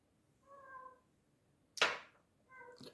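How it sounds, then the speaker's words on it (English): A pet cat meows twice in a quiet room, with a short harmonic mew near the start and another near the end, separated by a sharp broadband rustle or thump; no one speaks. "And my cat wants in on this."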